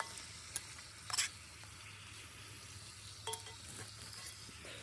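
Turtle doves frying in butter in a pan, with a soft steady sizzle and a few quick clinks and scrapes as they are stirred, heard up close and quiet with no talk.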